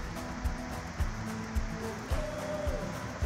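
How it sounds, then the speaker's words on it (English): A flooded brook in Wigwam Brook Forest, Thomaston, Connecticut, babbles and rushes in a steady, close wash of water noise, with a few soft low thumps scattered through it and no voices. "Of course, now the brook goes up that way, and it's flooded. It's making a lot of babbling noises."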